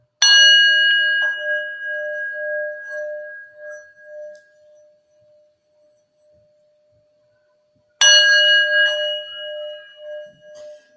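A clear bell rings twice as relaxing background sound, each strike sharp and bright, then a long, pure tone that fades slowly into silence before the next strike, about eight seconds apart.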